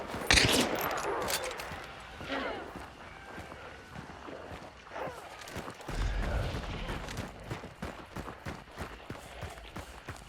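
Gunfire in the video game Hunt: Showdown, with sharp shots at the start and bursts later, mixed with footsteps and other game action, fairly quiet overall.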